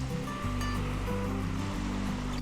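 Waves wash steadily onto a pebble-strewn beach at Tei Tong Wan, a continuous close surf rumble with a low wind-like roar and no talking.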